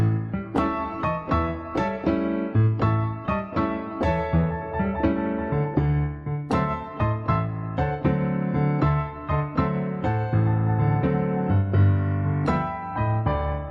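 Piano playing a blues piece with a stride bass in the left hand alternating low notes and chords under a right-hand melody, both hands together in a steady bouncing rhythm, close and clear with no talking.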